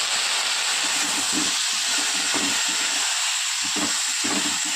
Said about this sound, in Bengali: সামান্য জল দিয়েছি দেখতে পাচ্ছেন এই একটু কোনো জল দেওয়ার সঙ্গে সঙ্গে শুকিয়ে গেছে যাতে মশলাটা পুড়ে না যায়